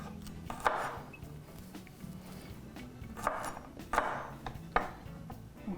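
Garlic cloves are coarsely chopped with a knife on a cutting board, giving a few irregular close knocks separated by pauses, with faint kitchen background.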